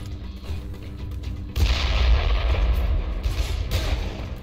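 Gunfire in Dead Island Definitive Edition, a loud booming shot followed by a second heavy blast, echoing over a low rumbling game background with no talk.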